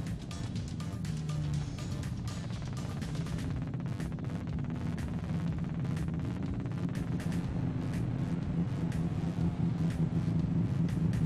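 A drag race car does a tire burnout at a Toyo Tires R1R drag battle event, a loud, sustained engine roar and rumble lasting the whole stretch with faint background noise.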